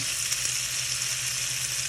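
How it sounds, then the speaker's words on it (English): Steady, close sizzling of pork frying in a preheated pan, a continuous crackling hiss with no voices. "You want to hear that nice sizzle."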